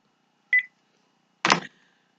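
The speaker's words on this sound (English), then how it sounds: "I'm going to go ahead and hang up the phone." A telephone handset hung up: a short electronic beep, then about a second later a single dull plastic clunk with a brief rattle, close and isolated against silence.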